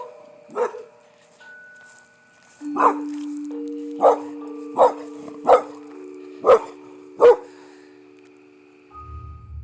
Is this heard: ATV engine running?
no